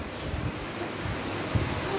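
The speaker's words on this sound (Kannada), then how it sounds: "ಗಾಳಿ ಕಂಡಪಟ್ಟಿ ಜೋರ್ ಐತಿ" Strong wind buffets the microphone with a steady, rushing roar, loud and continuous throughout with a brief gust near the end; no voices.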